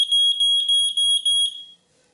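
A smoke detector being tested beeps loudly and close, giving a rapid series of shrill electronic chirps in evenly spaced bursts for under two seconds before going quiet.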